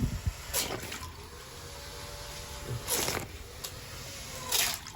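A small DC motor runs submerged in water, giving a continuous watery churning with faint tonal whine, broken by a few louder splashing bursts as it is moved.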